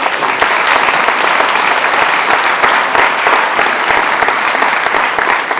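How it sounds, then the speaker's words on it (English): An audience claps for students at a veterans tribute ceremony. The applause is a dense, steady round that fills the room from start to finish with no voices over it. "Let's give them another round of applause"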